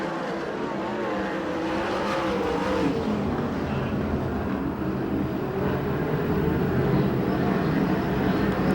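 USAC/CRA sprint cars race at Perris on the final lap, a steady dense engine roar filling the clip throughout with no clear single pass-by, loud and continuous.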